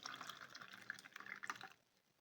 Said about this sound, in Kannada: ಈಗ ನೋಡಿ, ನಾನು ಈ ನೀರು ಒಂದು ಗ್ಲಾಸ್ಗೆ ಹಾಕ್ಕೊಳ್ತಾ ಇದ್ದೀನಿ.